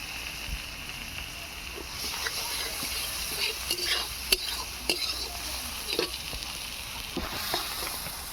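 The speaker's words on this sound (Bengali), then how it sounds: "এবারে আমি ভালো করে মশলাটা কষিয়ে নেব" Masala for chicken curry, with coriander leaves, chilli powder and salt, sizzles in a pan. Clear spoon scrapes and taps fall at irregular intervals over a steady frying hiss, close up, with a voice faintly present.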